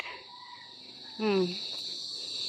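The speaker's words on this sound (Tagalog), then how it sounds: "Dami ng kuliglig." Crickets trill in a steady, high-pitched chorus at dusk over a field of dry, freshly watered crops, with a brief voice sound breaking in partway through.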